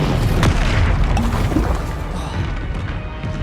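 An Incendio fire spell cast in the video game Hogwarts Legacy, a loud booming burst that rolls into a dense roaring rumble and slowly eases off.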